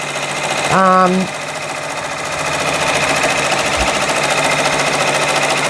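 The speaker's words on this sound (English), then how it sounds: "So we're on our way to stitching." An embroidery machine stitches a sweatshirt with a steady, close mechanical whirring and rapid stitching rhythm, preceded by a short electronic beep.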